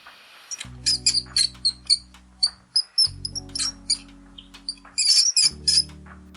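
A mouse squeaks in rapid, high-pitched bursts, short chirping peeps clustered in quick runs, over a soft low musical bed.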